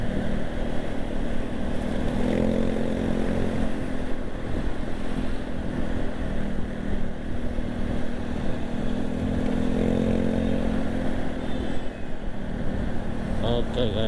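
A scooter engine drones steadily through busy Jakarta traffic, with wind rushing over the microphone and a rider's voice talking over the constant, close hum.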